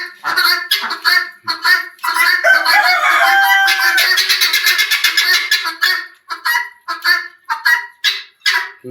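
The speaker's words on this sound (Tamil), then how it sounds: "வாத்து போகும்போது" Ducks honk and quack loudly and close by in a garden, a busy run of repeated harsh calls with a dense overlapping burst in the middle before breaking back into separate honks.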